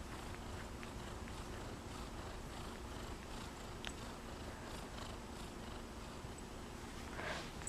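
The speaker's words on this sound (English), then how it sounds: "Oh, he's kind of purring." A contented cat purrs softly and steadily at close range, a low continuous rumble under faint background noise and occasional small rustles.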